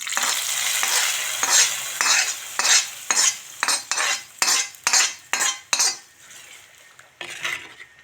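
Hot tempering poured into a Palakkad-style fish tamarind curry, sending up a loud sizzle, followed by a run of rhythmic scraping stirs of a spoon against the pot, each stroke clear and close.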